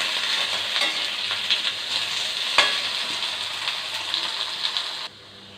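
Steady sizzling as potatoes sauté in a pan, with occasional scraping stirs, continuous and close, then cutting out abruptly near the end.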